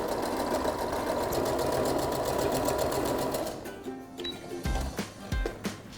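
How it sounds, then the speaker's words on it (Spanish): A sewing machine stitches a seam along the fold line of a hem on fabric for a toiletry organizer, running steadily and fairly loud for about three and a half seconds, then stopping and giving way to quieter handling clicks and taps. "volvemos a dar la costura por la línea que se forma durante el dobladillo"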